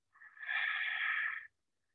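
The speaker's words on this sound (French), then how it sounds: "on va inspirer en tirant la langue et on va la tirer le plus possible donc vers le bas" One long, deep inhalation through the mouth with the tongue stuck out as far as possible, a breathy hiss lasting over a second, close and alone in a quiet room.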